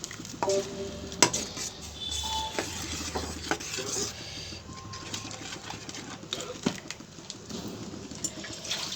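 A thick tamarind and jaggery sauce bubbles and sizzles gently in a pan, with occasional scraping of a spoon and clinks against the metal.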